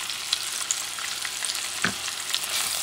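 Spicy dirty rice with meat and rosemary is stirred in a hot pan, sizzling steadily with soft scraping strokes and brief crackles, close and moderately loud, no talking.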